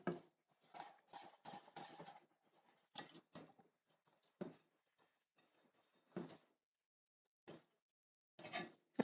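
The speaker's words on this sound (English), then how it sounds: "I'm just whisking in that caramel, making sure all of it gets nice and" A whisk stirs caramel in a bowl for hash chimney cakes, making intermittent close scrapes and light clinks in short bursts with quiet gaps between them.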